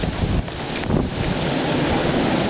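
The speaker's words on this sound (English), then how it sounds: "And the wind is pretty insane." Strong wind from a snow blizzard roars across the microphone in a dense, steady rushing buffet with a few louder gusts, close and loud throughout with no voices.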